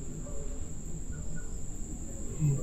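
A steady, high-pitched cricket trill runs unbroken throughout, fairly faint against a low background hum, with no voices.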